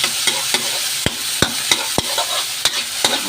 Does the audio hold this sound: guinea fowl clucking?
no